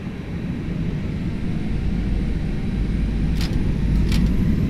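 Jet engines of an Airbus A319 in the Toliss flight simulator spool up on the takeoff roll, a steady broad roar with deep low rumble that builds slightly in loudness, with a couple of faint high chirps near the end.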